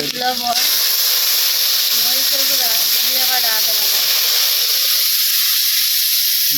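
Onion and spices fry in oil in a pan, a steady loud sizzle and hiss running throughout while someone talks over it.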